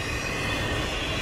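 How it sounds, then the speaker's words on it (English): A westbound CSX freight stack train rolls past in snow with a steady rumbling roar and faint wheel squeal, brief and continuous. "We have a westbound CSX stack train, as you can see."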